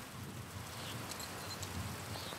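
Rain falling in the video game Pentiment, a soft continuous hiss with faint low rumbling underneath, quiet and steady with no voices.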